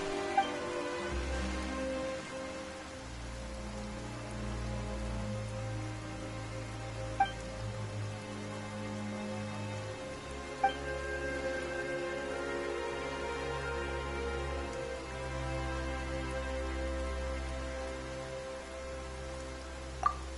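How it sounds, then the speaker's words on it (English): Steady soft rain patters continuously in the video game Genshin Impact, beneath a low, sustained musical drone, with a few faint isolated drips standing out. "Why is it raining all of a sudden?"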